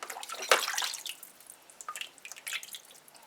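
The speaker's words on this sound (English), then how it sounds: "first we're just gonna wash it off a bit with just water" Cut-up chicken being washed with plain water, with close splashes and drips and irregular wet sloshes as the pieces are rinsed and handled.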